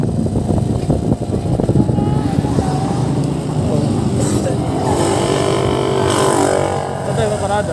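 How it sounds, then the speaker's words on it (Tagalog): Several motorcycles pass on a road in Rizal during a Christmas group ride, engines droning steadily and fairly loud throughout, with people talking in Filipino over the traffic. "Ayan yata eh, maraming motor oh."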